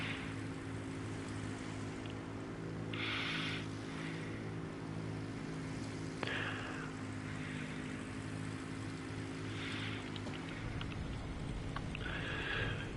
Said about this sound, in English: don't ask me why I'm flying a World War I aircraft